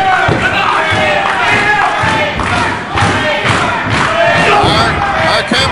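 Loud live wrestling crowd at the Delaware Auto Exchange in Felton, Delaware, roaring and shouting steadily with scattered thuds from the ring throughout.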